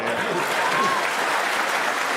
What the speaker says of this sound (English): Crowd will give him a big cheer